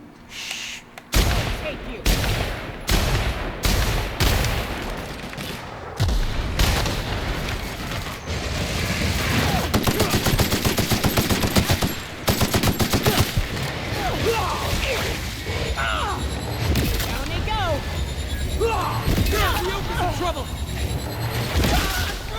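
Weapon fire in The Outer Worlds, heavy repeated blasts and booms rolling on continuously through a loud game battle, with someone talking over the noise.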